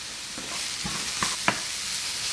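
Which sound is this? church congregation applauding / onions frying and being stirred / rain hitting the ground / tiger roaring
onions frying and being stirred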